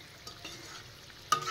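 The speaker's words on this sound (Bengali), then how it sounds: "এগোটা ঠাকুরের জন্য ভেজে তুলে নেব" Food fries quietly in a pan, a low, soft sizzle punctuated by a few light stirring clinks and scrapes.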